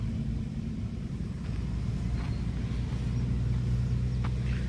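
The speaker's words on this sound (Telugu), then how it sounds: "బస్సు వెళ్తుంది" A bus passes on the busy Pakala-Tirupati highway, a heavy low engine rumble holding steady and swelling slightly as it goes by, with faint road noise above.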